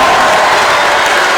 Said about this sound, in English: The rest of the crowd's going bananas.